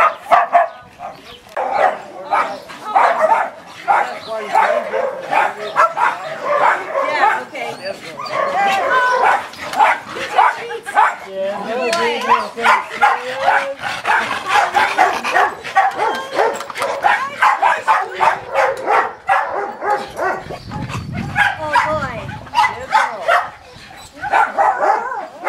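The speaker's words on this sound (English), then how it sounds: "They're playing with their dogs because we are babysitting for them." Dogs bark and yip in play with their owners at a pet resort, short barks scattered throughout under ongoing talk, with a whimper here and there.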